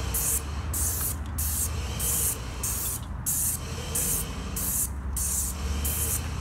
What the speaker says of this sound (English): Now we're getting on a light mist coat.